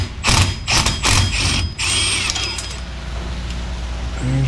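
A ratchet wrench works 9/16 bolts loose from a car's wheel bearing. It gives a few close, harsh ratcheting bursts, then trails into quieter mechanical clicks and clatter.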